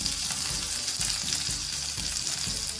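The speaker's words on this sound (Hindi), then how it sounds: "ऑयल गर्म हो चुका है, सबसे पहले हम लोग मस्टर्ड सीड ऐड करेंगे, थोड़ा सा हम लोग उड़द के दाल को ऐड करेंगे" Mustard seeds and urad dal fry in hot oil for coconut chutney tempering, a bright continuous sizzle with soft repeated stirring scrapes underneath.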